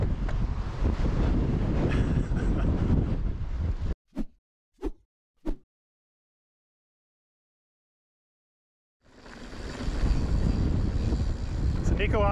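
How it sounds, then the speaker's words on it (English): Strong wind roars across the microphone while mountain biking on the Kokopelli Loops near Fruita. Loud, steady gusts are followed by a near-silent lull with a few brief knocks, then the roar returns. "this wind is gonna be a thing."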